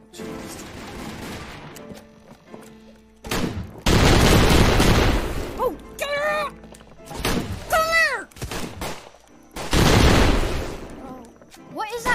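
Bursts of gunfire ring out in a Roblox wild west game, loud clustered shots and thuds in several volleys, mixed with game sounds and a player's voice.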